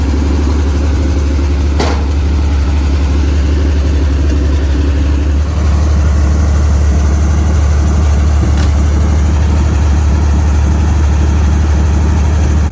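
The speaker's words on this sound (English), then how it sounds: "With the engine running, we were good to go to move it up the hill." A 1955 Dodge M152 truck engine runs after a cold start, holding a loud, low, rumbling idle that stays steady and close for the whole stretch, with no talking.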